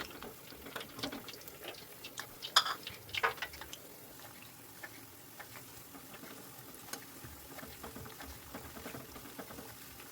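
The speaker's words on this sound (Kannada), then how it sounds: "ಸ್ವಲ್ಪ ಗೋಲ್ಡ್ ಕಲರ್ ಬರೋ ತನಕ ಫ್ರೈ ಮಾಡ್ಕೊಳ್ಳಿ, ಜಾಸ್ತಿ ಬ್ಲ್ಯಾಕ್ ಮಾಡ್ಕೊಳ್ಬೇಡಿ." Chana dal vadas deep frying in hot oil, giving a steady soft crackle and sizzle throughout with a few sharper pops and clicks from the pan, no voices.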